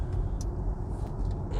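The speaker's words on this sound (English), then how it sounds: "Come on, it's accelerating with 6th gear." Steady low hum and road rumble from inside a Hyundai Ioniq 5 electric car accelerating on a road trip toward the Arctic Circle, a continuous dense drone with no voices.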